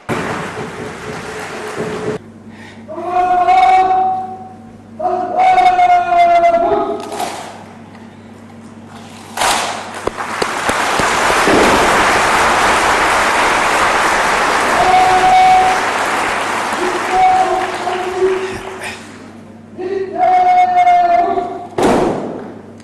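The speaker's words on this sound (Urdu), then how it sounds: "بھرپور تالیاں لیڈیز اینڈ جینٹلمین." Audience applause at a laptop distribution ceremony in Muzaffarabad, AJK: an amplified announcer's voice gives way to a long, loud wash of crowd clapping with thuds, before the voice returns over the fading applause.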